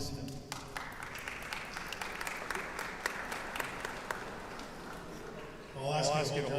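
A sports hall of fame induction ceremony audience applauds with steady, moderately distant clapping. A voice speaks over the crowd near the end.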